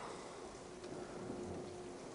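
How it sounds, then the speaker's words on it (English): Thunder from a storm bringing hail, sleet and snow at Blackheath rumbles low and steady under a wash of rain, faint and distant throughout. "we've still got thunderstorms"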